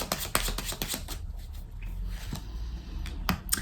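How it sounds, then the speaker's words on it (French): Tarot cards drawn from a deck and turned over, giving a run of soft snapping flicks and papery slides, close and fairly quiet, with a few sharper card slaps spaced through the pauses. "on va recouvrir quelques cartes"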